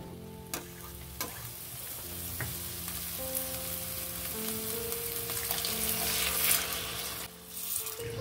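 Washed moong dal frying and being stirred in hot oil in a pan, a continuous crackling sizzle with occasional sharp clinks of a utensil against the pan, close and steady.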